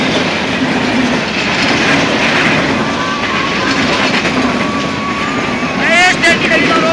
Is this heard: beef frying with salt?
no